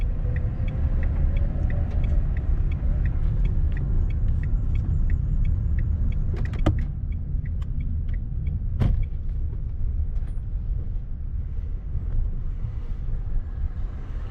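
A car pulls away with its clutch eased out slowly, a steady low engine rumble running throughout, with faint intermittent clicks and a couple of sharp knocks partway through; no voices.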